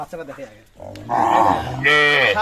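A calf moos loudly in drawn-out, bellowing calls, close by, with a few brief low grunts before them, at a cattle sale in Dinajpur.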